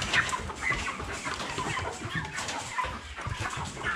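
Broiler chickens clucking steadily in a poultry house, a dense overlapping chorus of close hens' clucks and chirps filling the space without pause.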